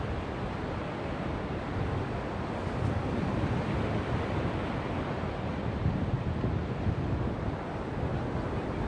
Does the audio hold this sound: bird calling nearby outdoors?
no